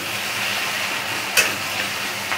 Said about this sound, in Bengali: এবার চিংড়ি মাছটা মিশিয়ে দিচ্ছি আমি।